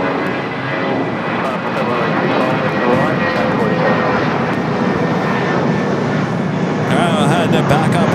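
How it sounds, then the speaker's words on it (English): An Air Tahiti Nui Boeing 787 Dreamliner arriving at LAX makes a steady, loud jet roar that holds throughout, with a brief rise near the end and possible faint talk mixed in. "Straight to South Cam 1 for the Dreamliner arrival. Second Air Tahiti Nui Dreamliner."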